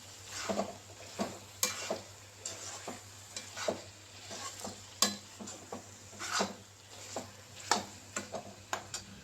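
Coriander leaves and mint stirred into chicken biryani masala in a pot, a spoon scraping in steady rhythmic strokes, each sweep a soft scrape with a faint click, over a low gentle sizzle, close and alone.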